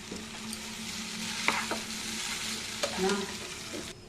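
Chow mein noodles tossed and stirred while frying in a pan, with steady close sizzling under scraping and clattering utensil strokes, a couple of sharper clinks standing out partway through.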